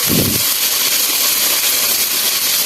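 Ginger paste frying in a hot pan, a loud, close, steady hiss of sizzling oil that opens with a brief burst and carries on evenly.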